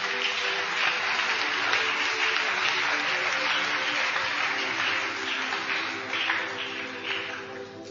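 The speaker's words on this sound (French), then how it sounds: "Est-ce qu'on peut acclamer la parole de Dieu?" A church congregation applauding during a sermon, dense steady clapping from a large crowd that fades slightly toward the end, heard alone without talk.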